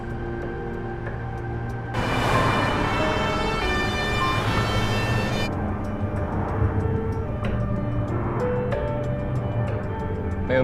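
An ambulance siren is called to an industrial-park worker dormitory after a fall. A loud, tonal wail rises suddenly, holds for a few seconds, then fades back under a steady ticking and a low vehicle drone.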